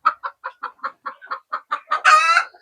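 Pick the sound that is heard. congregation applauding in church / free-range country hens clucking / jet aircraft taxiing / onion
free-range country hens clucking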